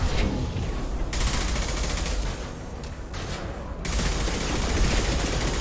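Sustained automatic gunfire in the video game Mass Effect 2, loud dense bursts with brief lulls, near and dominant with almost no talk.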